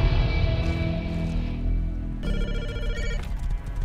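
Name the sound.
phone ringing in the video game Rust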